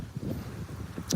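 Strong wind buffets a microphone outdoors in low rumbling gusts, steady and close, with a brief sharper burst near the end.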